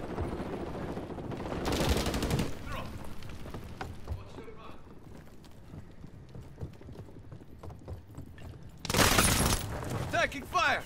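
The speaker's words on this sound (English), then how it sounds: "Taking fire!" Call of Duty: Modern Warfare III beta multiplayer gunfire breaks out in two loud, dense bursts, one early and one near the end. Between them come scattered clicks, mechanical gear sounds and faint in-game radio voices.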